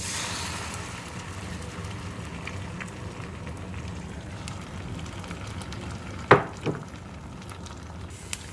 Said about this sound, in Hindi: ये पैन में मैंने 1 टीस्पून जो है वो ऑयल डाला है और इसमें मैं अब जो है वो एग डाल दूँगी।